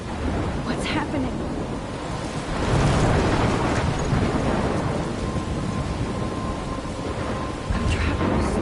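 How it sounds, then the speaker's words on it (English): A thunderstorm in the video game Life is Strange: a loud, continuous rumble of thunder swelling and rolling over heavy rain, close and dense, with no speech over it. "I'm trapped in a storm."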